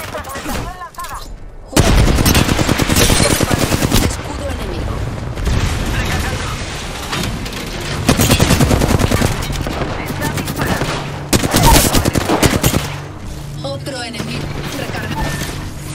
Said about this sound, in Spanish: Estoy recibiendo disparos.